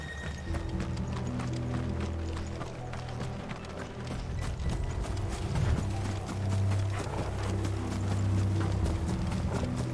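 Horses' hooves clip-clop in a steady rhythm in the video game Final Fantasy XVI, over a low droning music bed, with faint mechanical clicks and no talking.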